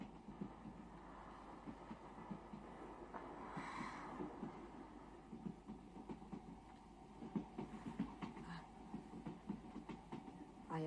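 Train running on rails, a steady low rumble with faint rhythmic clatter continuing throughout, fairly loud and constant.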